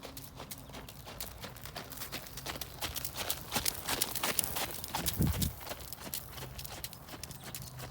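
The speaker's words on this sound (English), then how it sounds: "you can pick up a trot on the circle" A horse trots on a circle in a riding arena, its rhythmic hoofbeats steady and fairly close for the whole stretch, with a brief louder thud partway through and no talking.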